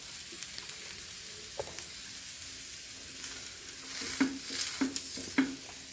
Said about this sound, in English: So frying on like this.